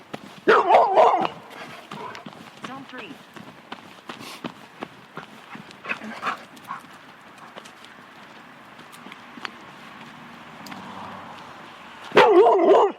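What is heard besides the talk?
dog barking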